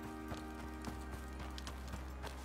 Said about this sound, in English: Small horse, I will leave it alone.